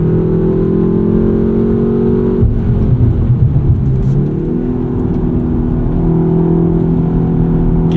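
A 2025 BMW M235 Gran Coupe engine pulls hard under acceleration, a loud, steady mid-range drone that dips briefly as the gearbox holds and shifts, then climbs again with no talking.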